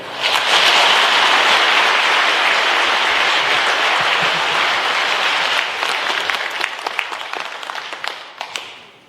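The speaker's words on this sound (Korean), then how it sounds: "힘찬 박수로 대신하겠습니다" Loud, sustained applause from the congregation at a 2023 silver jubilee anniversary Mass for a Catholic priest in a church, dense clapping that holds steady and then thins into scattered claps near the end.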